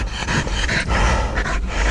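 Hunting dogs on a pig hunt pant heavily and rapidly up close, with loud rhythmic breaths running continuously over a low rumbling background.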